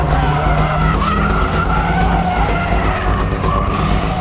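Car drifting under braking with tyres skidding and squealing continuously, a loud sustained screech over engine roar, steady throughout with no pauses.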